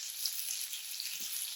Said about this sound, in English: So it's better just to use this grill pan to grill stuff as opposed to using an actual grill.